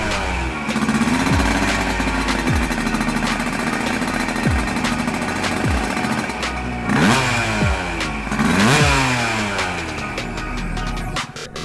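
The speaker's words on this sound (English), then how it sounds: "retro two-stroke road bike" A retro two-stroke road-legal motorcycle engine rasps and buzzes loudly nearby on the Isle of Man, revving up and down repeatedly with a crackly, ringing exhaust note.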